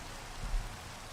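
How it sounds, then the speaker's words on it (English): Soft, steady rain hiss in the Minecraft ATM 9 modpack, faint and continuous with a brief low bump midway. "I need it to stop raining"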